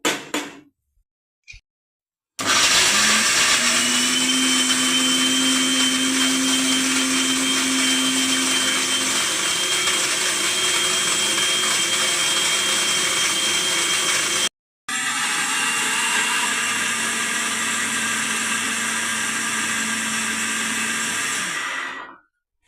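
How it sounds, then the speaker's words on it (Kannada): A kitchen mixer grinder blends masala paste for a cashew curry, giving a loud, steady motor whir that runs for about twelve seconds, stops briefly, then resumes for a second run before cutting out. "ಫಸ್ಟ್ ಇದನ್ನು ಮಿಕ್ಸಿಗೆ ಹಾಕಿ ಪೇಸ್ಟ್ ಮಾಡಿ ಇಟ್ಕೊಳ್ಳೋಣ"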